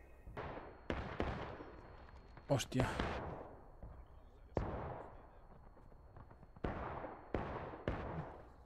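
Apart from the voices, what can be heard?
gunfire in the video game War of Rights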